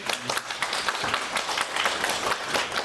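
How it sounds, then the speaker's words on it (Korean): Audience applause at a financial forum as a panel discussant from the financial supervisory authority is introduced: dense, steady clapping from a crowd, moderately loud and continuous throughout with no voices over it. "큰 박수로."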